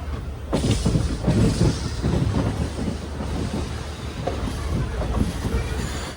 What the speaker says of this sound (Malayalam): തിരുനെൽവേലിയിൽ നിന്നും 89 കിലോമീറ്റർ യാത്ര ചെയ്ത് ട്രെയിൻ ഇതാ ഇന്ത്യയുടെ തെക്കേയറ്റത്തെ അവസാന റെയിൽവേ സ്റ്റേഷനായ കന്യാകുമാരിയിലേക്ക് എത്തുകയാണ്